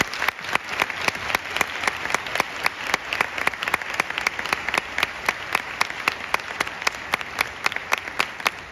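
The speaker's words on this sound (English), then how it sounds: "Please give them a huge round of applause." Audience at a UAB honor band festival claps steadily for several seconds, a dense, even wash of hands with a few sharper nearby claps standing out, loud and sustained with no voices over it.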